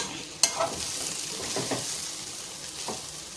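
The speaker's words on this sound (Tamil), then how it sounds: "மசாலெல்லாம் சேர்கிற அளவுக்கு நல்லா புரட்டி விட்டு" Drumstick masala for murungaikkai poriyal stir-fried in a pan: a steady close sizzle broken by a sharp utensil clack near the start and a few softer scraping strokes, with no talking.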